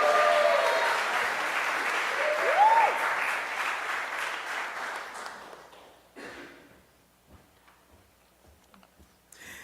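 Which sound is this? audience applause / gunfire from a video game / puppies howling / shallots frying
audience applause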